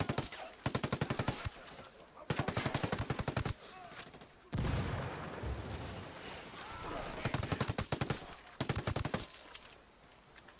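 A light machine gun firing in the video game Ghost Recon Wildlands, with several sustained rapid-fire bursts of sharp shots, loud and close, separated by short pauses and a stretch of rumbling explosion-like noise.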